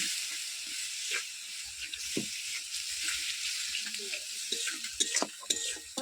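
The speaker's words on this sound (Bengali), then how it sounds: "একটু মশলাটা ভালো ভালো ভাজা ভাজা হোক" Oil sizzles and hisses steadily as a spice paste fries in a pan for ghugni gravy, with occasional scraping stirs and soft crackles, close and fairly quiet.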